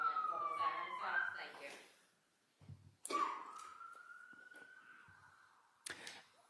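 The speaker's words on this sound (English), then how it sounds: "If you could just wait 1 moment while the siren stops" A siren wails from outside a courtroom during a murder trial, heard through the walls as faint rising and falling sweeps with brief knocks and room noise in between.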